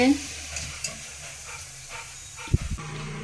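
Oil sizzles and hisses steadily as medu vada lentil fritters fry, with a brief clatter of stirring near the end and a voice faintly at the start.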